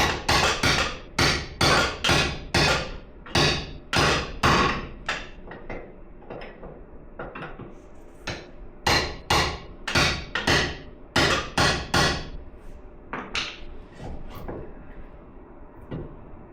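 Rapid, loud metallic hammer blows strike a chisel while removing VW MK4 air suspension, coming in close bursts of sharp, ringing impacts with brief pauses between runs of strikes, no talking.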